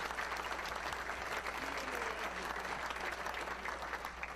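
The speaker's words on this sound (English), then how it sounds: "You guys all deserve a round of applause just for coming out tonight." Sustained applause from a large audience at a tribute show, a dense, even roar of clapping that holds steady throughout over a low hum.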